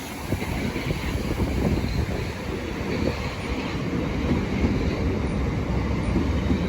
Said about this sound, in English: the 1231 Southeastern service from St Pancras International to Ramsgate. 395